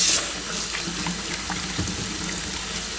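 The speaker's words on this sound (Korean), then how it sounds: "이제 깨끗하게 찬물에 씻어 올게요" Cold tap water runs into a sink as cooked glass noodles are rinsed, a constant splashing stream with small irregular clatters, close and steady throughout.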